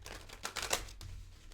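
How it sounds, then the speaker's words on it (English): Tarot cards are shuffled by hand during a June pick-a-card reading, giving a quiet, papery riffle of brief crisp clicks that bunch up near the middle and then fade, heard alone without talk. "Let's get one more shuffle."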